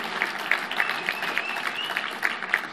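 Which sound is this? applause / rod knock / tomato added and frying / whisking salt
applause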